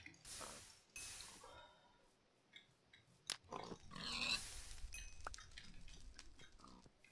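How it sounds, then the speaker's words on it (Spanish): A pig in Minecraft grunts and oinks while burning, faint and intermittent among game clicks and rustling, with no talk. "Lol, este cerdo aquí quemándose."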